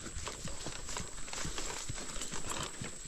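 Hooves of a horse being ridden clip-clop in a quick, regular rhythm, close and fairly loud, over a constant outdoor hiss.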